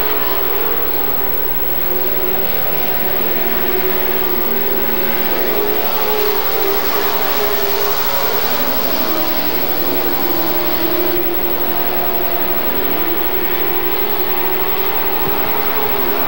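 Race cars roar around Gallatin Speedway in a continuous loud, dense engine drone that swells and fades slightly as the pack circles, with no clear talk over it.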